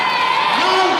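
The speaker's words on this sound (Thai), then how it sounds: "โอ้กองเชียร์ลาวมาแล้วครับ" Lao team supporters at a sepak takraw match cheer in a loud, continuous crowd roar, with a rising shout near the end.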